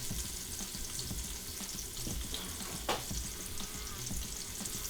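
Chopped onions frying in butter and bacon grease for a cabbage dish, giving a continuous, fairly loud crackling sizzle with one brief scrape of a utensil partway through, no voices.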